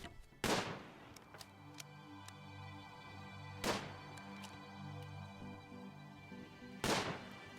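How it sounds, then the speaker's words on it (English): Gunshots ring out during a hunt in the colony-building video game RimWorld: three sharp, loud reports spaced about three seconds apart, each with a ringing tail, over a steady low background hum. "I hear gunfire? Yeah, that's Millie, just out hunting."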